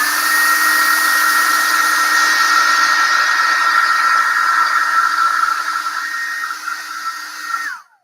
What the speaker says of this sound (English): Let me go ahead and hit this with this hair dryer so we can move the process along.